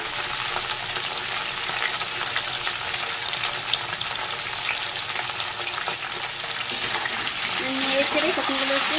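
Cauliflower florets frying in a pan with salt, a continuous loud sizzle and crackle close by, with occasional stirring and a faint tonal sound toward the end.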